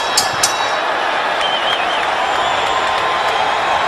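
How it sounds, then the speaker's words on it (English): Boxing crowd at the Mayorga–Forrest rematch roaring steadily, a dense, sustained wash of cheering with a couple of sharp whistles near the start. "This crowd is excited now."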